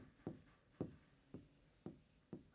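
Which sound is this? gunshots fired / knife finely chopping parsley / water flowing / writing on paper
writing on paper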